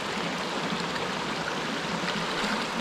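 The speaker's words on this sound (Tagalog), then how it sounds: "Ang ganda ng ilog." River water flows steadily, a close, continuous broadband rush and gurgle with no pauses and no voices over it, heard near a plot being prepared for planting chili peppers.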